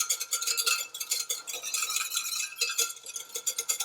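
A whisk beats egg yolk and tomato concentrate into a sabayon in a warm pan, with rapid, rhythmic metallic scraping and clinking strokes close up and no talking.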